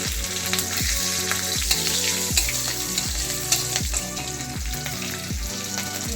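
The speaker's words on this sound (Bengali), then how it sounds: "এই ভাজা তেলেই আমি একটু কালো জিরে ফোড়ন দিয়ে দিলাম, দুটো শুকনো লঙ্কা, কাঁচা লঙ্কা" Black cumin, dried red chillies and green chillies crackle and sizzle steadily in oil used for frying fish, with a low repeating thump of music underneath throughout.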